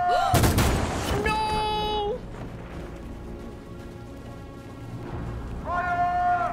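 A firing squad's volley in the video game Detroit: Become Human: a sharp loud gunshot burst at the start, then a tonal in-game sound, a quieter stretch, and another rising tone near the end.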